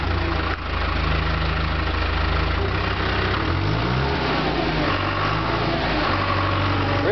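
A rented crawler dozer's diesel engine runs loud and near, idling with a low steady throb, then rising and falling in pitch through a few revs.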